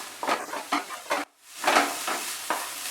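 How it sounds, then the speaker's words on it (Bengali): Onion and pointed gourd seeds frying in a pan over medium heat crackle in short stirred bursts with a brief pause midway, close and moderately loud. "এবার এটাকেও আমি কিছুক্ষণ ফ্রাই করব মাঝারি আঁচে।"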